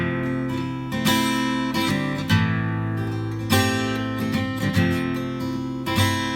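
Acoustic guitar strummed in a rhythmic pattern with certain beats hit noticeably harder, giving periodic loud accented strokes over steady strumming, close and without talking.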